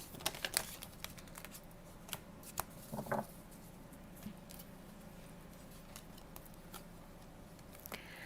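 Tarot cards being handled and drawn for a personal reading, with a cluster of quick crisp riffling snaps early on, a brief shuffle burst midway, and scattered soft card taps, close and quiet.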